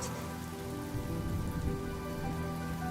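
Steady rain in Honkai Star Rail pours down on a surface, a dense continuous patter with a low rumbling undertone and a gentle swell midway, no voices.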